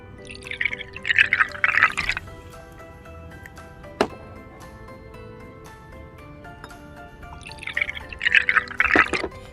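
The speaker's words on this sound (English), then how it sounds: "I'm going to pour blue and yellow." Blue and yellow coloured liquids are poured together in two splashy trickling bursts, with a quiet gap and a single small tap between them.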